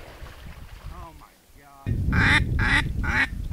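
Ducks quack loudly and repeatedly at Milford Lake in Kansas during a hunt, a quick run of nasal calls near the microphone after quieter calls in the background.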